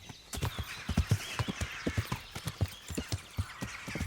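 Horse hooves pound in a steady galloping rhythm in the medieval game Kingdom Come: Deliverance, each footfall a close, punchy thud over a bed of outdoor ambience, with no talking.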